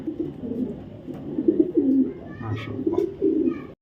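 A female Black Dresser pigeon coos softly in low, throaty bursts, close by, with a few faint higher chirps mixed in and no clear talking.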